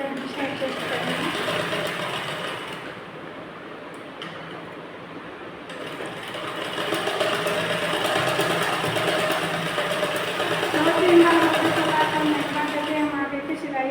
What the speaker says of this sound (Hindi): हम आगे की सिलाई इस तरह से करेंगे